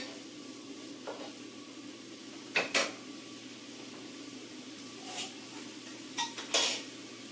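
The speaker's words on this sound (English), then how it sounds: "I'm going to add the rest of those greens, give them a good stir." Bok choy greens being stirred in a hot pan, with a utensil scraping and clinking against the metal in a few sharp bursts over a low, continuous sizzle.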